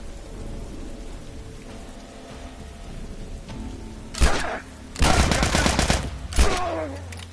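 Gunfire from a firearm in The Last of Us: after several seconds of low ambience, sharp loud cracks burst out in a few close clusters, with a dense volley in the middle and a single shot after it.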